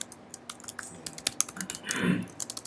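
Typing on a computer keyboard during a Ruby coding session, with quick irregular clacks, a few louder keystrokes and a brief denser flurry, close and faint with no talk.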